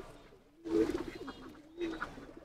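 Pigeons bred for racing coo softly nearby in a loft, with two separate throaty coo phrases about a second apart and quiet between them.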